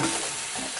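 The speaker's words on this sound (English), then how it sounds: "And I'll dump my sausage back in." Sausage dumped back into a Dutch oven with cabbage gives a short burst of hissing sizzle and stirring, close and steady for under a second.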